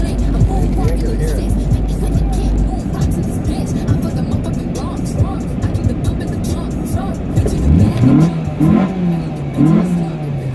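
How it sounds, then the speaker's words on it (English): A car engine revs and drones steadily while driving in traffic, with rising pitch sweeps near the end as the throttle opens, loud and close, with people talking over it. "Why don't you rev it up when we go past cars?"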